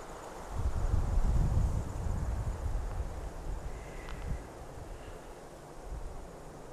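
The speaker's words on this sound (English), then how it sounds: "We have momentary gusts of wind." Brief gusts of wind sweeping across grass outdoors, a soft rushing swell that rises early then fades to a quiet breezy hiss, with a faint high chirp briefly in the background.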